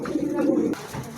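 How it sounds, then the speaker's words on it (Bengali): Pigeons kept in a cage coo in a steady, close, throaty burble that fades away partway through, with no talking. "এটা কবুতরই এক খাঁচাতে আর এক খাঁচাতে নিয়ে আসে, তো ওই জন্য একটু লাফালাফি করতেছে।"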